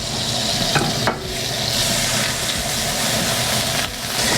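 About a tablespoon of butter melting in a hot pan, giving a loud, close, continuous hiss and sizzle with a couple of brief dips and small clicks from the pan, no voices.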